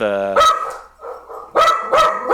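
A dog barks and yelps in a few sharp, loud bursts close by, with a whining tone at the start and brief pauses between the barks.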